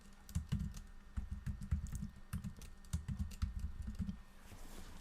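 Computer keyboard typed in quick, uneven bursts of soft clicking keystrokes, close and fairly quiet, filling about five seconds with short pauses between words.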